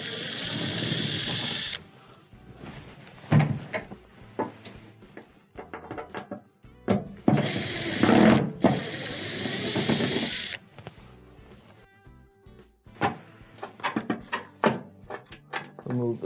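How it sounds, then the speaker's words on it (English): Phillips screws are removed from underneath a GE washer during a door boot repair, with irregular bursts of scraping, whirring and clicking from the tool and screws separated by short pauses, close up. "we have 3 Phillips screws that are underneath that we'll have to take out"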